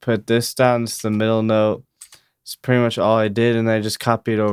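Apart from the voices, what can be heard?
None of the usual background noises is heard.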